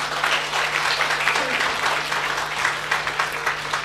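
Sustained audience applause fills a Tamil Roman Catholic gathering in Chennai, dense steady clapping from a crowd throughout, with a low constant hum underneath.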